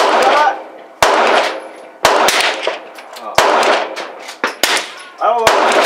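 Gunshots sound at moving targets in a shooting video game, sharp loud cracks spaced about a second apart, each decaying quickly, with excited voices reacting between some of the shots.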